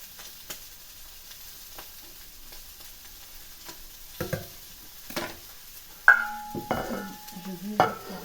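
Shallot fries in a pan for a tomato sauce, a low sizzle at first, then sharper stirring scrapes and utensil clatter in short bursts toward the end.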